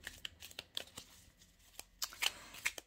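Cards drawn from an oracle deck give soft, close papery flicks and slides, a scattered run of quiet card sounds with no talking.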